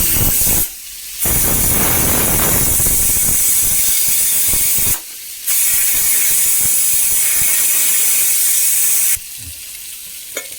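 A pressure cooker on the stove hisses steam loudly and steadily, with two brief quiet breaks in the continuous hiss and a final drop to quieter kitchen sound near the end.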